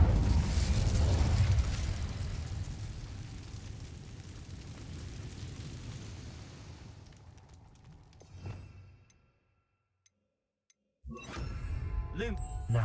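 A spell cast in Hogwarts Legacy sends out a loud burst of fire that roars and slowly fades over several seconds, with a softer pop and crackle near the end, a brief silence, then sound resuming.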